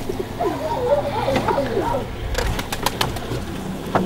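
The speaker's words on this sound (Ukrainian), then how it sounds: "Це жовті голуби. Теж льотні" Yellow flying pigeons coo in a soft, rolling murmur close by, followed by a few clicks and rustles with a faint voice in the background.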